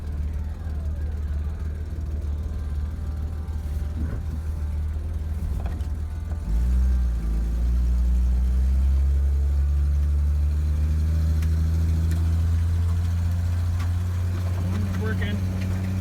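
A 1964 Ford Falcon four-door engine idles low, then revs up and settles into a steady drone as the car drives off, loud and close throughout.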